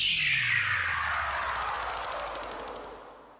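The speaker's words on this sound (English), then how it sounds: "The next patch we have is falling noise." A Serum patch called falling noise from the Doomsday pack: one long sweep of bright noise that slides downward in pitch and slowly fades over a few seconds, heard alone with no voices.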